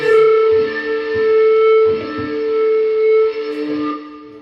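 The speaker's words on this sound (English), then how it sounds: "We'll add some reverb at 12 o'clock. And let's put some boost on it." Electric guitar played through a Boss Katana 100W amp with reverb and boost engaged, loud sustained chords with a long singing note and reverberant tails swelling and fading, alone with no talk.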